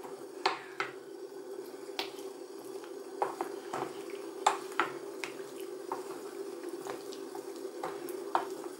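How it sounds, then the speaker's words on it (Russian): Water boiling in a pot to melt chocolate over it in a home kitchen, giving a steady low simmer with scattered sharp pops and bubble clicks throughout. "вода закипела."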